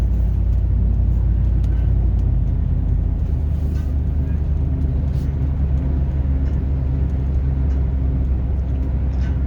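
A 2002 Ford F150 Supercrew Lariat FX4 4x4 pickup cruises down the road, heard from inside as a steady, smooth low rumble of engine and tires that holds even throughout.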